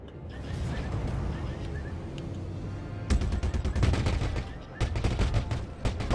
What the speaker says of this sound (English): Oh, I love the sound of that gun.